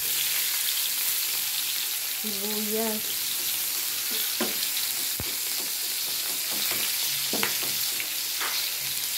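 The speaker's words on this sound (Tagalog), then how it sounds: "Yan, nilagay ko na ang bawang. Sunod-sunod na yan sibuyas." Garlic and onion frying in a pan, a steady close sizzle throughout with occasional stirring scrapes and light clatters, no talk over it.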